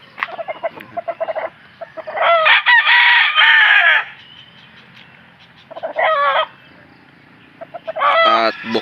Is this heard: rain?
no